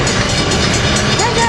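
Amtrak 572 with F59PHI locomotive number 460 passing through San Juan Capistrano in a quiet zone: a steady, loud, close rumble and rail clatter of cars going by, with a faint rising tone near the end.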